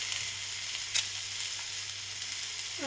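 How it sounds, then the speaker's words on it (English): Onions roasting in a pan for chicken kala masala bhaji: a steady, close hiss of sizzling oil with faint crackles, no talking. "We have to roast it till it's like to the point of burning."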